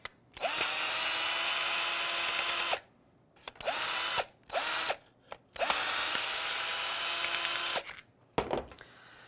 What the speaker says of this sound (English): Just take your screwdriver.